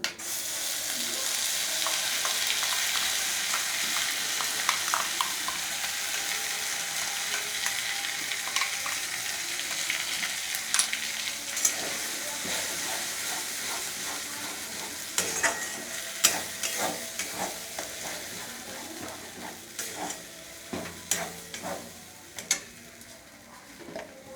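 Pea paste fries in hot oil seasoned with asafoetida while being stirred, a continuous bright sizzle with repeated scraping and clicking of the spatula growing more prominent toward the end.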